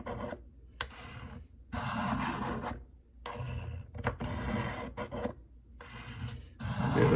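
A Buck Bantam knife is drawn across the rods of a Spyderco Tri-Angle Sharpmaker, a close, quiet rasping that comes in about six distinct strokes with short silent gaps between them.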